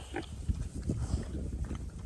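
Pigs at a feeding and watering station made from 55-gallon drums give low, soft grunts and snorts nearby, in a loose, irregular series.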